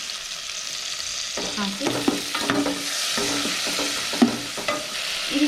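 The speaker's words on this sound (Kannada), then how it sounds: "ಫ್ರೈ ಮಾಡಬೇಕು. ಶುಂಠಿ ಬೆಳ್ಳುಳ್ಳಿ ಪೇಸ್ಟ್ ಹಾಕಿ" Ginger garlic paste sizzles and fries in a hot pan for egg biryani, with steady scraping and stirring strokes over a continuous close sizzle and a brief spoken word.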